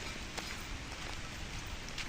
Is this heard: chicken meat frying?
no